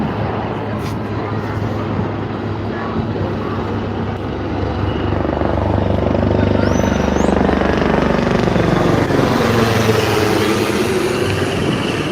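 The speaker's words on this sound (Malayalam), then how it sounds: "നല്ല പുകയൊക്കെ ഇട്ട് വരുന്നുണ്ട് ഹെലികോപ്റ്റർ നല്ല അടിപൊളി പരിപാടിയാണ്" An Air Force helicopter trailing smoke flies over a Beypore fest rehearsal: a loud, continuous low rotor drone with a steady throb that grows slightly stronger midway and holds to the end.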